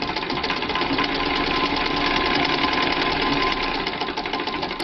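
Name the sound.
Singer Lotus vintage sewing machine stitching a seam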